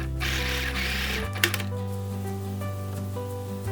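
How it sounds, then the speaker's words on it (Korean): A sewing machine stitches corduroy pants pockets in a continuous rapid whirring run, then shifts to a lower hum, with a few sharp clicks partway through. "이 주머니 2장을 끝에서부터 끝까지 1cm 시접으로 봉제를 하신 다음에 오버룩으로 마무리를 해서 이제 주머니를 완성을 해줄게요."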